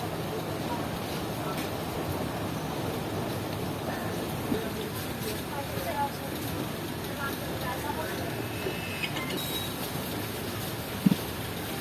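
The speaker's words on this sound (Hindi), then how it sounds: "सर सैयद एक्सप्रेस ने कराची के लिए निकलना शुरू कर दिया" The Sir Syed Express pulls out of Hyderabad station bound for Karachi, a steady broad rumble of rolling wagons with faint wheel squeals and clatter, muffled voices around it on the platform.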